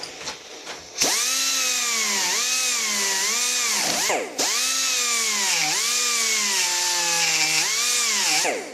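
A rotary tool spins a flat-ended carbide burr against metal, giving a loud, sustained whine that dips and rises in pitch as the cutter loads, with one brief pause.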